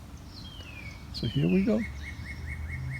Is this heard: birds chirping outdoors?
yes